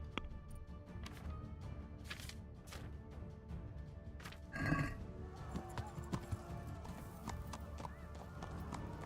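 Horse hooves clip-clopping in the video game Kingdom Come: Deliverance, a quiet run of rhythmic hoof taps with a brief neigh midway, played low in the mix.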